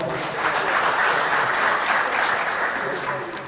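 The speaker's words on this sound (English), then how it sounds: "Another round of applause." A crowd at an embedded systems and robotics event applauds in a dense, sustained round of clapping that holds steady and tapers near the end.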